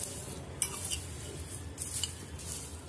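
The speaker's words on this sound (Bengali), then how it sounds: "আমি চিংড়িগুলোর সাথে রসুনটা মিক্স করে নিচ্ছি" Dried shrimp and fried garlic are stirred together in a pan, with soft metallic scrapes and clinks of a utensil against the pan at a low, steady level.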